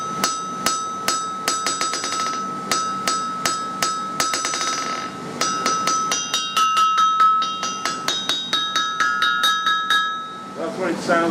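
A hammer strikes an anvil that has no hold downs fitted, giving a steady series of bright metallic blows. Each one leaves a sustained ringing tone, loud and close, with no talk over it.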